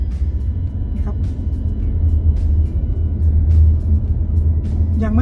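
A car's engine rumbles steadily from inside the cabin as the driver drops to a lower gear in manual (M) mode to slow behind braking traffic, with a low continuous drone and faint clicks over it.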